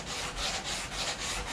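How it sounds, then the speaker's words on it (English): Sandpaper rubbed back and forth over a wooden guitar fretboard inlay, a close, raspy scratching in quick rhythmic strokes, about four passes in a short burst, with no talking. "sand it down and clean it up"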